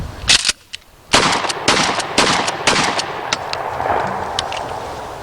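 A handgun fires a rapid string of sharp, loud shots outdoors, several close together after a single early report, each cracking and then fading into echo, with no talk.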